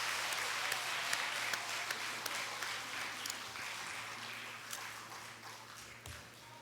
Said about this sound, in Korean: 크게 박수 받으시면서 퇴장하도록 하겠습니다